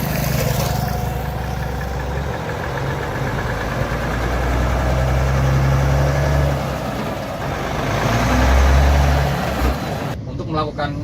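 Diesel engine of an FMX 500 truck rumbling low and steady as the driver moves from brake to gas pedal, swelling slightly louder near the end, with someone talking over it throughout.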